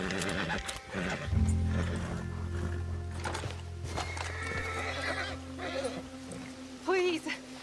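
Horse in the video game Red Dead Redemption 2: a loud, close neigh and whinnies over clip-clopping hooves, with a voice speaking at times and a low steady drone beneath.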